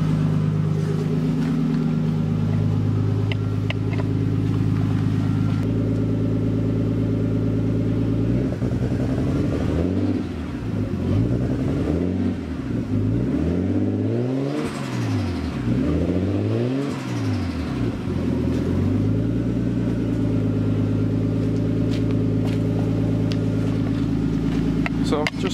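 An Audi R8 with an RB20 engine and coil pack conversion idles loud and close while warming up, a steady low rumble with a slight unsteady misfire, swelling into a few short revs midway, with people talking over it.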